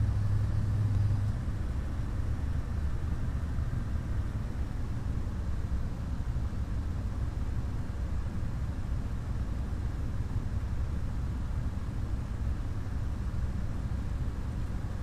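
Both engines of a Beechcraft Baron 58 twin-engine aircraft drone as a constant, loud, low rumble throughout flight, heard from inside the cabin with no talking.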